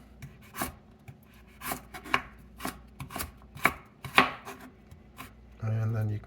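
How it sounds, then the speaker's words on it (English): A knife cuts a vegetable into julienne strips on a board, giving a dozen or so crisp, irregular chops close by, followed by a short low hum at the end. "Now you have a good flat surface in which to do the julienne."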